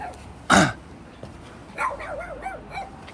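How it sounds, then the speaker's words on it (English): A dog near a large self-built building in Japan gives one sharp bark, followed by a few softer whimpering yips a moment later, heard close by with light background noise. "here's on my left side there's a dog"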